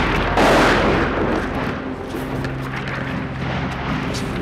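A shell impact in a city during the war in Ukraine: a heavy, rumbling boom with a swell of noise that slowly decays into a long roaring tail, loud and filling the whole clip.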